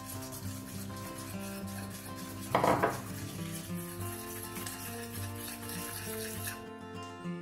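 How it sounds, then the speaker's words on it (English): Icing sugar stirred with lemon juice in a bowl, making a quiet, steady rubbing scrape with one brief louder burst of scraping partway through. "you get some icing sugar and you mix it with some lemon juice"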